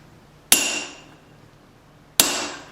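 Two sharp, ringing blows of a hammer on an anvil face while forging a small claw hammer, spaced well apart, each with a bright metallic ring that decays quickly.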